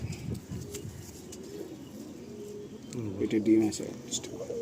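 Pigeons cooing in a pigeon loft in Sonarpur, low throaty coos rising near the end, mixed with a person speaking close by and faint chirps in the background.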